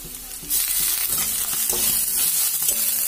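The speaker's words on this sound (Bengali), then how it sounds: "এক্ষেত্রে আমরা পেঁয়াজগুলিকে খুব বেশি ভাজবো না, আর এর মধ্যে দিয়ে দেবো কুচানো চিড়ে রাখা কাঁচা লঙ্কা এবং রসুনটাকে থেঁতো করা 4-5 কোয়া।" Onions fry lightly with chopped green chilli and four or five crushed garlic cloves for a snail masala curry, giving a loud, continuous close sizzle with occasional stirring scrapes.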